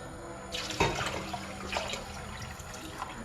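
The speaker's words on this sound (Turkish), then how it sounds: "içerisine su ekliyorum" Water pours steadily into a pot of yüksük soup with bone-in meat, a close, continuous splashing gush with a gentle bubbling undertone.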